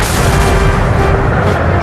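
Napoleonic cannon barrage at Waterloo, heavy artillery pieces firing in a dense, continuous rumble of booms that merge into one loud roar.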